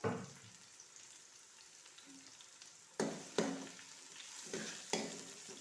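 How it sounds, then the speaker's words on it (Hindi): Onions frying in a pan until light brown for a turnip and chicken curry, with a faint steady sizzle and several clear scraping stirs of a spoon against the pan, close with no talk. "प्याज को हम जो है वो लाइट ब्राउन होने तक भूनेंगे।"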